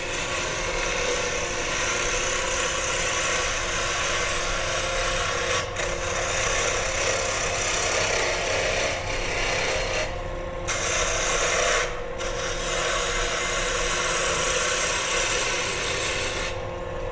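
A gouge roughs down a wooden pen blank spinning on a lathe, a loud continuous rasping scrape with brief breaks as the tool lifts off the wood.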